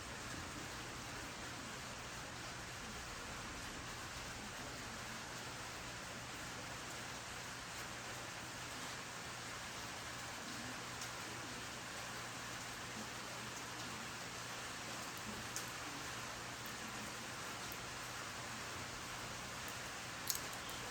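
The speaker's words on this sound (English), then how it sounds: "You don't hear that rain?" Steady rain falls continuously, a dense even patter with no voices, holding the same level from start to finish.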